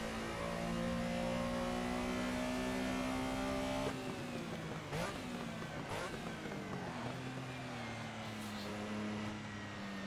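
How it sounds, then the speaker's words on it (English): A Porsche Carrera RSR 3.0 race car engine in Assetto Corsa held against the rev limiter, a sustained high-pitched buzzing drone with brief stutters and pitch dips, close and steady with no talking. "Might just want to hit the rev limiter there and not lose that much time shifting."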